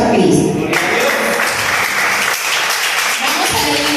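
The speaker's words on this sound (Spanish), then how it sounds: "Den un aplauso a Cristo." A church congregation claps during a Spanish-language service, a loud, dense round of applause that stays steady for a few seconds after an opening swell.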